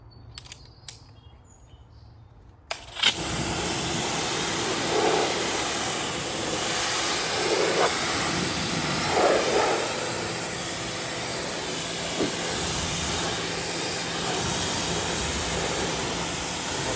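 A pressure washer sprays through a new swivel gun and angled lance. A couple of faint clicks come first, then a loud steady hiss of spray starts abruptly and runs on, with slight surges and a few knocks along the way.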